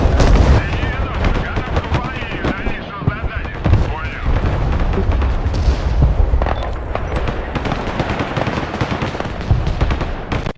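In the military strategy game Broken Arrow, dense battlefield gunfire and artillery blasts crack and boom almost nonstop, with loud, irregular bursts layered over rumbling explosions. Voices can be heard faintly beneath the combat.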